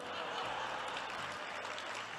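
Steady crowd applause fills the whole short stretch, dense and even at a moderate level, with faint voices mixed underneath.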